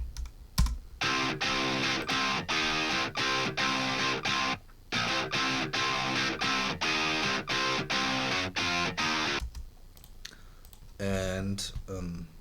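An electric guitar patch from the Electric Sunburst library chugs out a steady, rapid rhythmic pattern of short repeated chords, stopping briefly midway, then ending with a few looser strums.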